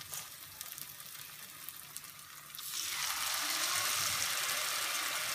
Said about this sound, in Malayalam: ഇതുപോലെ നമുക്കെല്ലാം ഒന്ന് ഫ്രൈ ചെയ്തെടുക്കാം